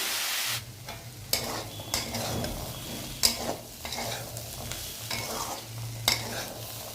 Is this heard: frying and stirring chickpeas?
yes